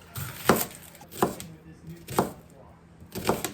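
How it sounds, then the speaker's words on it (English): Rough chopping of an onion with a knife on a board: four sharp, spaced chops ring out close and clear over quiet kitchen background. "And I got to chop the onion first."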